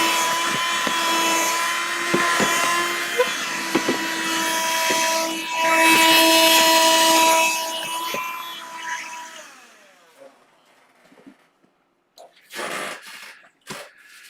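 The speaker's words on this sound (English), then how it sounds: "Alright, let's polish this fret." Guitar frets are polished with a power tool, giving a loud, steady whirring buzz with a sustained tone and rising grinding rasp, then the motor winds down to near silence with a few short bursts.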